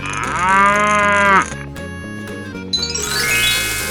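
A cow in a 3D animal slide video game gives one long, loud, close moo lasting over a second, followed by chiming game music and jingles.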